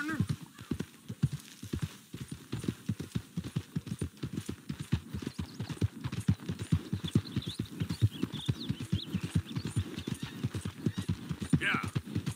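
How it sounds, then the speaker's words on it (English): Steady, rapid hoofbeats of a horse in the video game Red Dead Redemption 2 clip-clop without pause, close and fairly loud, with a faint whinny near the end. "This is our horse."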